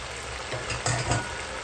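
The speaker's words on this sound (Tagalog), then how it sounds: "Ngayon, ilalagay na natin yung ating pusit." Squid dropped into a hot pan for adobo, raising a steady sizzling fry that swells briefly as the pieces land and settle.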